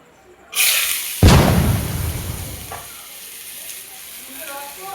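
Food tipped into hot oil bursts into a loud, sudden sizzle that stays steady and crackling, easing slightly as frying continues, with a small clatter partway through.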